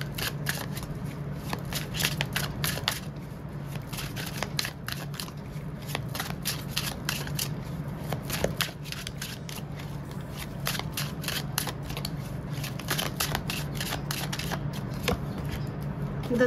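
Tarot cards shuffled by hand in a steady, close run of crisp riffling clicks and flutters lasting throughout, with no talking over it.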